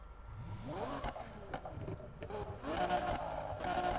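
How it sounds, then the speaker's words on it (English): Exhaust of an Audi R8 revving in the NFS Heat racing game, a fairly quiet engine note rising and falling in repeated sweeps with short crackling bursts. "here comes the exhaust sound"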